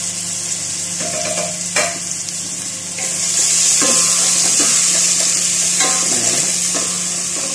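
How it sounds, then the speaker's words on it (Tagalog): Garlic sautéing in cooking oil previously used to fry fish, a steady loud sizzle with scattered stirring scrapes and clinks of a utensil against the pan throughout. "Ayan, umpisa natin magigisa."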